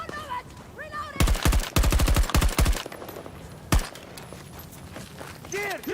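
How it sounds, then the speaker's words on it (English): Video game gunfire in loud rapid bursts, several quick volleys of automatic shots followed by a single sharp report, then quieter background game sounds. "I'm being shot at!"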